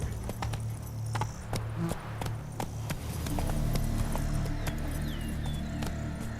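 Horse galloping in The Witcher 3: Wild Hunt, Blood and Wine expansion, steady hoof clip-clop running throughout over low game ambience and hum, close and continuous.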